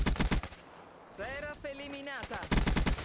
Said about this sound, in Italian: Questi continuano a sparare là in fondo